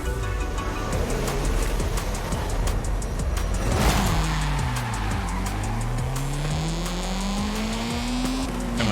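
A Honda VTEC car engine revs hard in a racing game, rising and falling as it shifts gears, with tire squeal and skidding over a constant loud drone.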